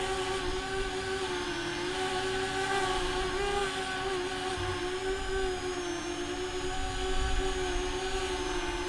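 Parrot Anafi drone hovering close over Lucky Peak Reservoir as it comes in to land, a steady, high whining propeller buzz with sustained tonal harmonics and a slight waver in pitch, heard alone without voices.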